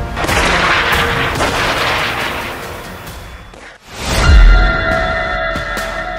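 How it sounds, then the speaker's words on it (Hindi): Heavy blasts from a Hezbollah Burkan missile strike on Israeli army positions, loud rolling explosive booms filling the air, a brief lull, then another powerful deep boom. "जोरदार धमाके साफ देखे जा सकते हैं।"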